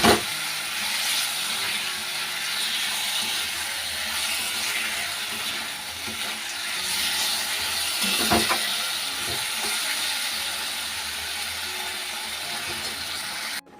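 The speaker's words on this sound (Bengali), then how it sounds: "ওদিকে ঝোলটা ফুটছে" A pot of curry bubbling on the stove gives a steady close hiss and soft simmering crackle for the whole stretch, with a few faint clinks of utensils and no talk.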